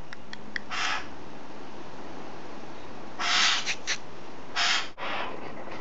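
A rescued pied currawong gives a few loud, harsh calls, short bursts separated by pauses, close by against a quiet outdoor background.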